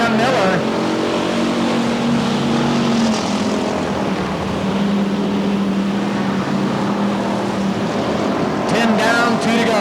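Race cars roaring around a Bakersfield oval track in a Budweiser Racing Series event, a loud, steady engine drone with shifting pitch under continuous commentary.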